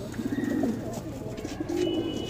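A red Sendha Madrasi Punjabi pigeon coos up close, two soft, low throaty coos separated by a brief pause.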